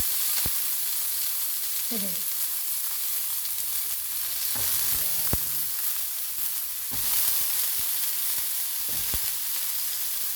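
Steady, dense sizzling of potatoes frying in hot oil fills the whole stretch, with a few faint clinks and knocks from stirring.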